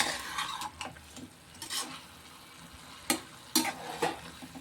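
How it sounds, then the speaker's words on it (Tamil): Spinach and lentil stir-fry being stirred in a pan, spatula scraping in irregular strokes with a few sharp metallic scrapes over a faint background sizzle, close and fairly quiet. "இதை வந்து இப்படி நம்ம கிண்டும் போது இந்த பருப்பை வந்து இந்த கீரையில் நல்லா ஒட்டிக்கிறோம்"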